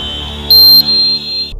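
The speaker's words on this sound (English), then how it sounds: "If it detects any potential underwater vessels, it will appear on system with a deep beep sound." A sonar tracker's alert signals a detected submarine: a sustained electronic tone, a sharper brighter beep in the middle, then a final shift before it cuts off, heard alone and close.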